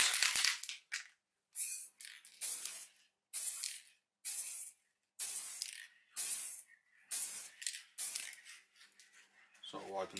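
Spray paint can hissing onto a PC case in repeated short bursts, about ten sharp loud sprays separated by brief pauses, close and alone.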